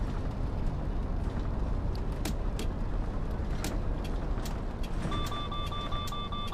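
A bus in City Transport Simulator 2026 rattles and creaks over a steady low engine rumble, with sharp intermittent clatters and a brief repeating electronic beep near the end, fairly quiet with no talk.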